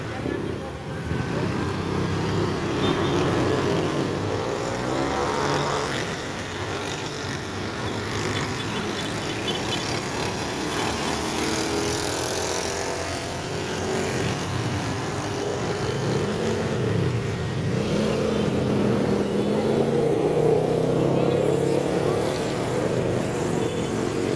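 A truck and other traffic pass along a congested road in downtown Antipolo, with a steady, continuous engine rumble that stays loud throughout and some talk mixed in.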